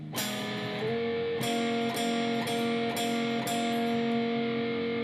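Electric guitar playing the third part of a blues turnaround slowly, several picked notes ringing in sequence with bright attacks, close and moderately quiet with no talk.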